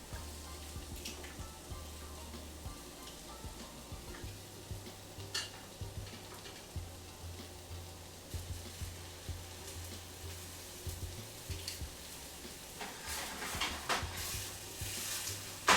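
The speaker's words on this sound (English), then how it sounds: "So we are going to deglaze with white wine." Pork cutlets in a pan deglazed with white wine, giving a steady, moderate sizzle with soft bubbling and occasional stirring scrapes, heard alone without talking.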